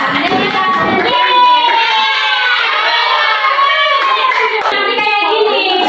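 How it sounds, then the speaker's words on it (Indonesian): Children applaud together in a classroom, a dense and loud burst of clapping with excited shouts and chatter mixed in, continuing for several seconds. "Tepuk tangan untuk kita semua."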